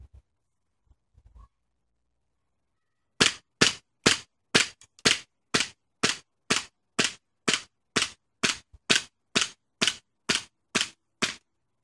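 An Elite Force 1911 A1 airsoft pistol fires about eighteen sharp cracking shots in a steady, evenly spaced rhythm, close and distinct, after a few faint clicks.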